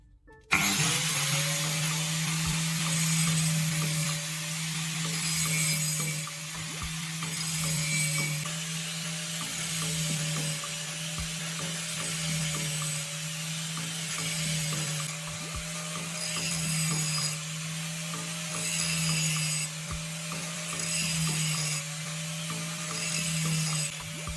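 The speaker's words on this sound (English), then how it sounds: "you turn on the grinder and bring the first cutting face gently to the disc" A bench grinder wheel sharpening a drill bit, a steady loud motor whine with a low hum throughout, the bit's cutting face pressed gently against the spinning disc adding faint grinding hiss.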